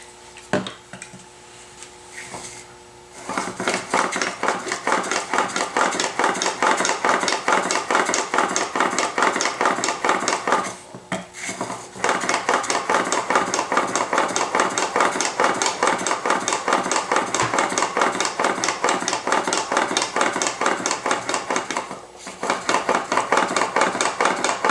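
A hand plane iron rubbed back and forth on an 8000 grit sharpening stone, a continuous close scraping grind with brief pauses, loud and steady throughout.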